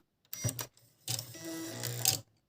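A Brother QS-480 sewing machine runs its automatic thread cutter to trim the thread, giving a short mechanical whir followed by a longer motorized buzz and a final click, close and alone.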